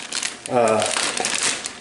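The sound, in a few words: handling a plastic gallon zipper bag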